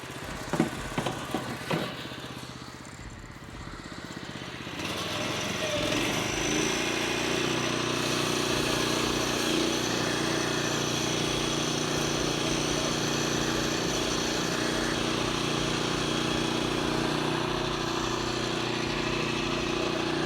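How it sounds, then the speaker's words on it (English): A Mowmaster Verdi mower thinning T31 lawn grass starts up after a few clicks and knocks, then runs as a steady, loud motor drone with a constant whirring hum. "we'll just thin it out a little bit more with the Verdi mower"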